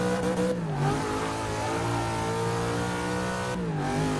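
A V8-swapped Miata drift build in Forza 6 holds a loud, harmonic-rich engine roar with rising revs, broken by two brief gearshift dips, close and without talk.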